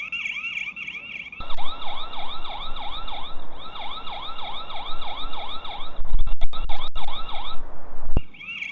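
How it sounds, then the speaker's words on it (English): A loud electronic alarm siren from a battery-powered PTZ security camera warbles rapidly in a repeating whoop pattern over a steady high tone, with brief clicks and a cutoff near the end. "You can also set a siren to go off when the camera detects movement"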